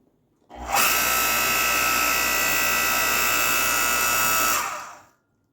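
A Harbor Freight electric 5-ton log splitter motor runs in one loud, steady whine and hum for about four seconds, starting abruptly and cutting off, with no one talking.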